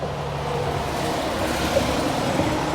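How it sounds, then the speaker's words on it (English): A heavy truck rumbles past nearby, a loud, steady low engine drone that holds throughout. "A loud truck."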